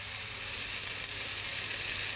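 Sliced ampalaya stirred into a pan with sautéing tiny shrimp paste (alamang) gives an even, continuous hiss with faint clinks, constant in level across the short stretch, and no one speaks.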